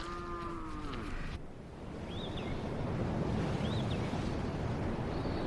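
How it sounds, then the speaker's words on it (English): A single cow lets out a drawn-out moo at the start while cattle graze fresh grass during Oman's khareef monsoon season, followed by steady wind and surf noise and a couple of faint high chirps. "The local people are quick to bring out their cattle to feed on the fresh grass."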